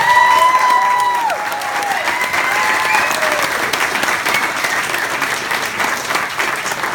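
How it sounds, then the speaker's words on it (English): An audience applauds and cheers as a performer is introduced at a roadshow event. Dense, loud clapping fills the room, and whoops and whistles ring out over it early on before steady applause carries on. "please give him a warm round of applause."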